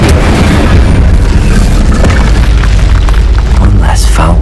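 Incendio fire spell blast in Hogwarts Legacy during a fight with a Quagmire troll: a loud, heavy rumbling boom with crackling bursts, dense and continuous, close and booming.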